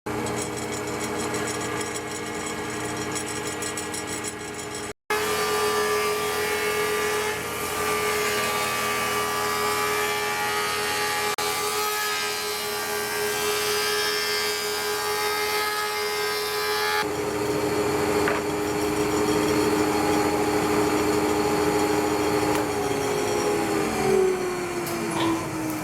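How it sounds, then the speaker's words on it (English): A wood planer feeds fence boards through in a loud, continuous mechanical whine and roar that shifts in pitch as each board passes and is briefly cut off early on, with no talking. "I'm gonna run them through the planer and see what we got."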